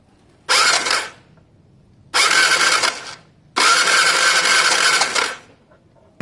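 Three bursts of sharp, crackling electrical snapping from an original spark plug on a non-starting Gilera DNA 125 scooter, each lasting about a second with quiet gaps between them, close and fairly loud.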